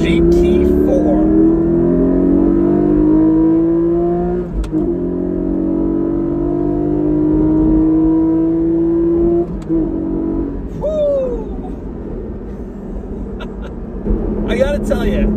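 A 2020 Porsche 718 Cayman GT4 engine climbs steadily through the revs on the road, a loud, close mid-range drone rising over several gear pulls, with brief shift breaks between them.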